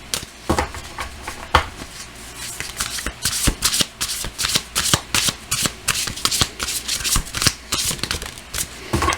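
Tarot cards being shuffled over and over, a quick ruffling riffle of crisp flicks and slaps repeating in bursts, close and fairly loud with no talking.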